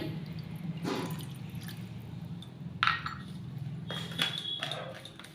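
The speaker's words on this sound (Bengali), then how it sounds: "মেপে জল দিচ্ছি এক কাপ" A measured cup of water poured at home for a homemade hair-dye mixture, heard as a close, continuous trickle and splash with a couple of light clinks.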